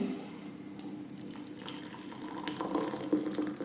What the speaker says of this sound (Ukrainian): давайте для прикладу візьмемо в чашку наліємо гарячої води